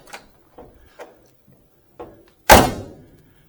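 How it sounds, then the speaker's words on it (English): Doors of a 1967 Camaro RS SS snapping shut: a few light latch clicks and thunks, followed by one loud, solid door slam with a short decay, with nothing else in the background. "You notice the doors just snap shut."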